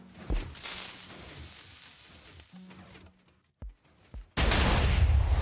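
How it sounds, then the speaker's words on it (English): A loud burst of sizzling, crackling energy fire from a rail cannon in Minecraft, a pause with a couple of sharp thumps, then a roaring, sustained blast, all close and without speech. "we'll shoot you with the rail cannon"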